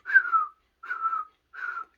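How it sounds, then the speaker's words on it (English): A person whistles three short, breathy notes, each sliding slightly downward, with brief silences between them, close and fairly soft. "I can't fucking whistle, as you can hear"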